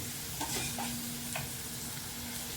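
A small bunch of washed, finely chopped spinach is tipped into a pan and sautéed: soft scraping stirs over a low, steady sizzle, close and fairly quiet, with no talking.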